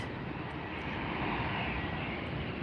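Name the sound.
Lufthansa Boeing 747 jet aircraft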